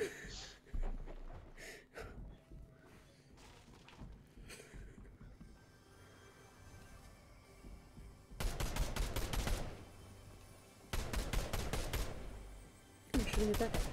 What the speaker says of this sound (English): I'm shooting at that guy.